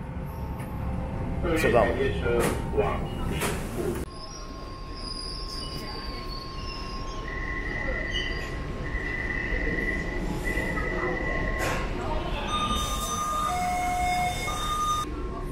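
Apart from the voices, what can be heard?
Taipei metro train arriving and riding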